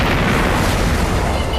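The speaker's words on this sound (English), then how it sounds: "Could a fuel tank explosion bring down a plane?" Fuel tank explosion set off during a model plane test, a dense, loud roaring burst that holds at full level for under two seconds with no quiet onset or tail.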